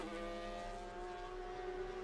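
A GT3 race car engine in Assetto Corsa EVO holds a steady, loud, close drone at near-constant revs, with no shifts or breaks.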